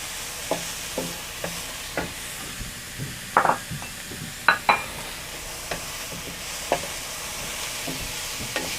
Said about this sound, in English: So you wanna cook this off for like around 5 to 7 minutes, or until the onions is translucent.